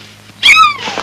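One short, loud meow from a cat close by, rising and then falling in pitch, over a quiet background.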